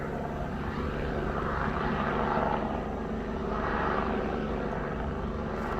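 Hawaii National Guard helicopter circling over Leilani Estates, a continuous broad rotor and engine drone that stays loud and steady overhead, swelling slightly and easing back as it passes, with no voices.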